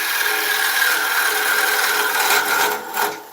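A carbide woodturning tool scrapes oak spinning on a lathe, making a loud, continuous harsh rasp that holds steady before easing and briefly flaring near the end.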